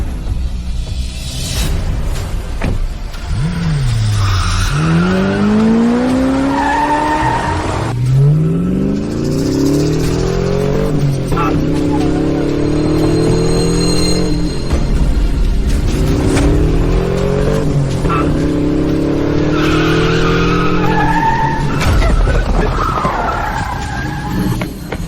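Car engine revving and tires skidding in a dramatic film sound effect, with repeated screeching sweeps and accelerating roars sustained loudly for about twenty-five seconds, no talk.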